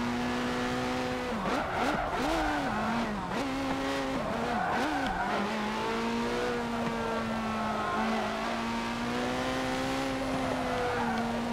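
Race cars in Forza Motorsport 7 drive at around 140 miles per hour, with a loud, continuous engine drone whose pitch wavers and dips through gear changes, plus a faint tire squeal near the start.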